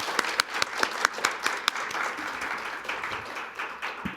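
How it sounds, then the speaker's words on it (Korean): Applause from the audience at a Korean water-science award lecture for the K-water academic prize, steady massed clapping with a few crisp nearby claps punctuating it, fading slightly toward the end. "박수 한번 부탁드리겠습니다"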